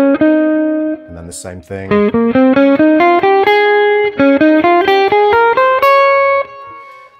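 Rising single-note line of a chord scale played from the 7th, steady even notes with a processed, distorted electric tone, loud and close, with brief talk near the start.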